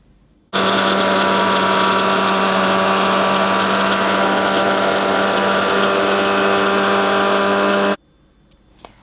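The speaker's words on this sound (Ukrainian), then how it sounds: "Викладаю в блендер, насипаю сіль і буду блендерувати." An electric kitchen blender whirs loudly and steadily as it grinds spices together with salt, a constant motor drone that starts abruptly, runs about seven seconds and cuts off sharply into a quiet room.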